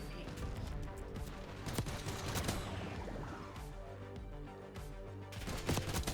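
An SVD rifle modded to full auto fires in a first-person shooter video game, rapid bursts of gunshots cracking repeatedly throughout over game ambience.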